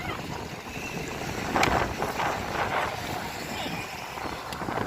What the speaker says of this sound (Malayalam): കാറ്റുണ്ട്, ഗിംബൽ പോലും കറങ്ങുന്നില്ല ഗൈസ്,